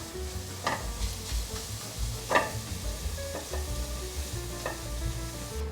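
Avocado purée and melted butter being stir-fried together in a pan: continuous soft sizzling with several scraping stir strokes of a utensil against the pan.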